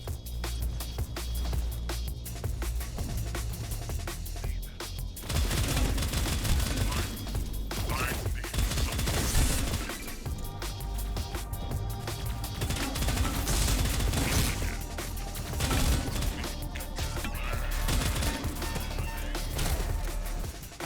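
Gunfire in the video game Echo Point Nova comes as rapid bursts of shots and crashing impacts, loud and dense, running almost nonstop with brief lulls and some background game noise.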